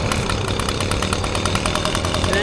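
Echo PB-580T backpack leaf blower with its two-stroke engine idling, a steady, loud, continuous mechanical drone with a fast rhythmic pulse, close by and without voices.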